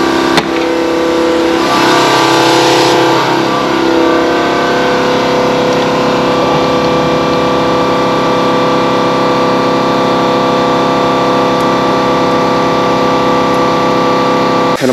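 A box truck engine cranks and then runs steadily and loudly after the intake is sprayed with brake cleaner, with a brief rise in revs near the start and no talking.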